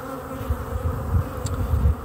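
Honey bees from an orphaned, broodless countryside colony buzzing in a low, steady drone, fairly loud and close, with the hum swelling and easing throughout.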